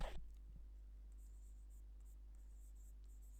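A pen writes on paper during a physics lesson, making faint, intermittent scratching strokes over a steady low electrical hum after a short knock at the start.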